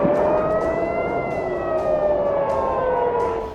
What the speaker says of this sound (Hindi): लगातार दूसरे दिन इजराइल के शहरों में सायरन की गूंज सुनाई पड़ती